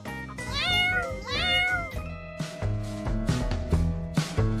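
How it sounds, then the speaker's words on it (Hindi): A cat meows several times in a row, loud and close, with rising and falling drawn-out cries followed by shorter, sharper calls. "अरे बिल्ली रानी, आज होली है,"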